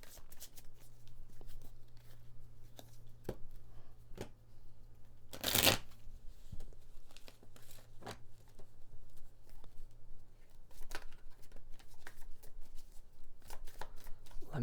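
Tarot cards shuffled by hand in a steady run of soft riffling patters for the whole stretch, with one sharp louder burst partway through over a low constant hum in the room.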